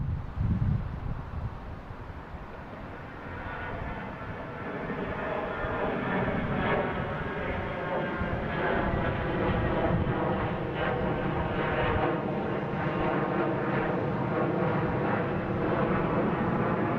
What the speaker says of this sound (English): here's the Delta, the A321, flight